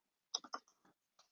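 A few quiet keyboard keystrokes in a silent room, a quick cluster of soft clicks followed by two more isolated taps.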